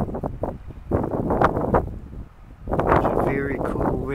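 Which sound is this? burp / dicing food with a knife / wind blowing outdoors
wind blowing outdoors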